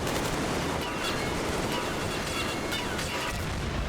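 Explosion in the Metro Exodus video game, a dense, broad rumbling blast with crackling debris and gunfire-like bursts, sustained and fairly loud throughout, no voices.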